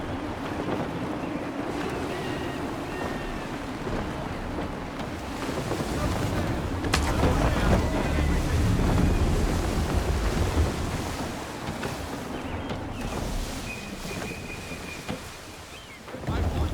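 Gusty wind and waves at sea aboard a sailing ship in Assassin's Creed III, a steady loud roar of wind and water with swells that rise and fall. A voice speaks faintly at times.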